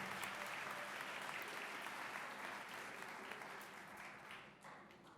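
A crowd claps steadily for a dance magnet program at an event. The applause is sustained and full throughout, easing slightly toward the end.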